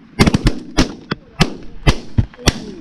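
Shotgun blasts during a goose hunt, about eight loud, close shots fired in quick irregular succession from more than one gun within three seconds.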